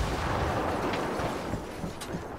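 A frag grenade detonates in the tactical shooter Ghost Recon Wildlands, giving a rumbling, noisy blast with a couple of sharp cracks over steady battlefield din.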